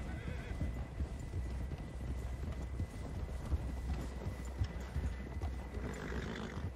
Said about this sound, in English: Come on now, horse. You can make it up this hill.